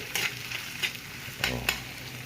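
Cooking oil sizzles and bubbles in a pan while cooking beef with potatoes, with a few scraping stirs breaking through the steady frying hiss.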